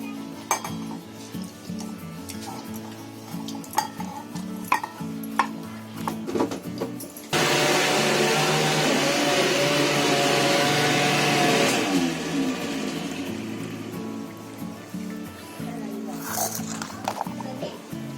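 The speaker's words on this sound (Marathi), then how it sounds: "आता हे आपल्याला मिक्सरला लावायचे." A kitchen mixer grinder grinds soaked dates into paste, its loud motor whir starting abruptly and running steadily for about four seconds, set between stretches of clinking utensils and talk.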